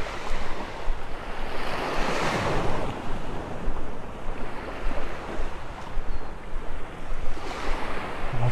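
Ocean surf at Vanderbilt Beach in North Naples, Florida, at daybreak: waves wash in and break repeatedly in broad, hissing swells, with wind buffeting the microphone throughout.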